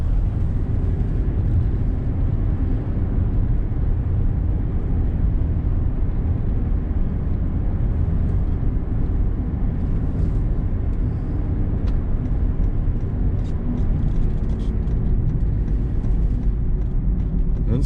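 Steady low road rumble and engine hum from inside a Lincoln MKX on a test drive, continuous and even with no voices over it.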